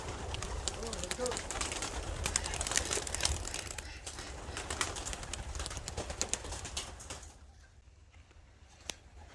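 A sizable flock of pigeons flies outdoors, cooing and flapping with fluttering, pattering wingbeats. The sound is dense and steady for about seven seconds, then thins out and grows quieter.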